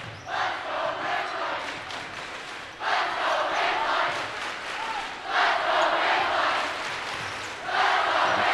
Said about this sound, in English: Crowd picking up the noise here